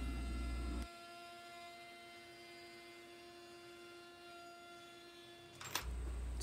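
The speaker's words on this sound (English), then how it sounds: "I am using a 3/16 roundover bit here on all of the edges" Router fitted with a 3/16 roundover bit running at high speed while rounding workpiece edges, a steady whining tone with hum that cuts off and restarts, close and fairly loud.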